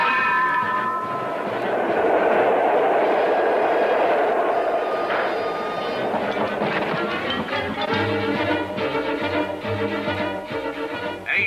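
A New York subway train runs in a 1981 Spider-Man cartoon, a loud sustained rumble and screech of wheels with rhythmic clacking building through, and a brief voice near the end.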